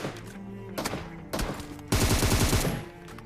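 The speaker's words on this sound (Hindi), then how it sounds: "अब तुम लोगों को गन फाइट के साउंड तो आ ही रहे होंगे" Gunfire in the mobile battle royale game PUBG Mobile, bursts of rapid automatic shots in close succession that grow louder and denser toward the end, with no talking.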